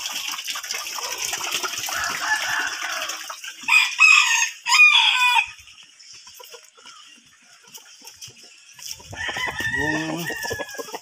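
Chickens eating wheat feed cluck and chatter in bursts, with a rooster's loud crow near the middle and more busy squawking toward the end, over a soft background hiss.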